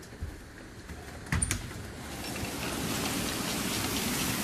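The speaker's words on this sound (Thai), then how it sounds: "ฝนเริ่มมาแล้วครับ" Rain begins falling in a storm, its hiss on the surroundings building steadily from faint to a dense, constant wash, with a brief knock partway through.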